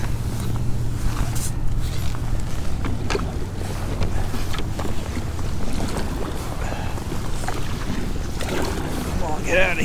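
A fishing kayak is paddled through water, with sloshing paddle strokes and splashes under constant wind buffeting on the microphone and a low hum, close and loud, with no clear voices.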